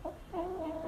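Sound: young rooster clucking

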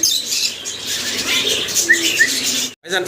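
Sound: birds fluttering and cooing

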